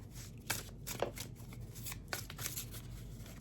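A deck of cards is shuffled close by in a quiet room, several quick riffling bursts and soft flutters spread over a few seconds with no voices.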